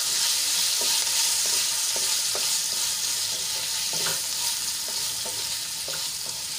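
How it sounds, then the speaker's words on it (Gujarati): Chopped green chillies are stirred through hot oil with a pinch of asafoetida, giving a continuous bright sizzle close up and a spoon knocking the pan at a loose, irregular rhythm. "મરચાંને આપણે સારી રીતે તેલમાં મિક્સ કરી લઈશું"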